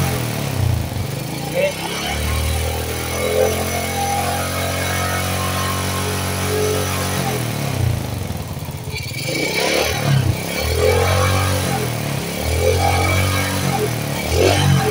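A motorcycle with a smoky exhaust idles and revs in a fairly smooth, steady run, rising and falling several times at close range while a person talks over it.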